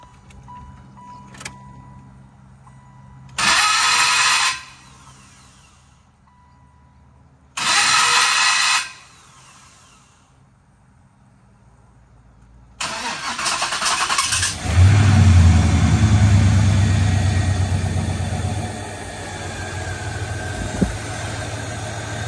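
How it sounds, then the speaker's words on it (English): A 1996 Chevrolet Impala SS is cranked twice in short bursts without catching, then on the third try it fires up and revs loudly before settling into a steady idle. The engine is heard close and with no talking. "Got to crank it up, man. Show y'all what she doing when she start."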